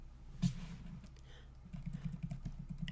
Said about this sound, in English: here's my pause, where I'm just simply waiting for input from the keyboard